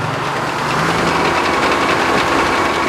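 A Frick sawmill engine runs at a steady, fairly quick speed with a loud, continuous rumbling drone and rhythmic knocking, close by and with no talk.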